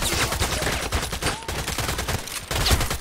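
Rapid bursts of automatic gunfire rattle continuously in the Contract Wars shooter game, dense overlapping shots filling the whole stretch with little pause.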